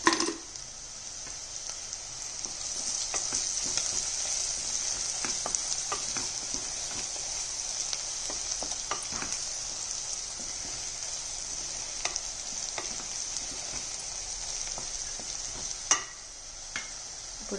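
Tender tamarind leaf curry frying with a spoon of chilli powder in a pan: a bright, constant sizzle runs throughout, broken by frequent light clicks and scrapes of a spoon stirring at close range.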